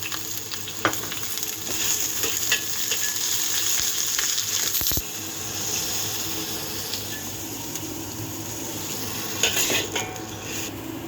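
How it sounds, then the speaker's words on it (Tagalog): Onions fry in oil in a pan for a shrimp and egg stir-fry, giving a steady hiss with occasional clinks of a utensil against the pan, close and fairly loud. "Unahin natin prituhin ang sibuyas."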